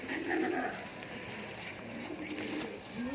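Fancy pigeons in a loft give soft, repeated coos at low volume, with someone talking over them and occasional rustling in the background.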